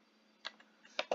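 A few quiet, scattered keystrokes on a computer keyboard, a soft tap near the middle of the clip and a quicker cluster of clicks toward the end, with no voice.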